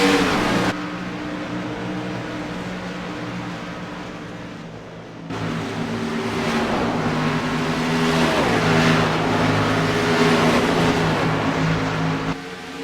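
Race cars roar along the track and slow down pit road during green-flag pit stops, several engines droning and rising in pitch, loud and close, with one dropping away before others build back up.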